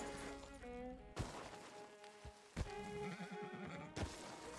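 A horse in the video game Red Dead Redemption 2 whinnies with a wavering cry, broken by sharp crashing and clattering impacts, heard alone without speech.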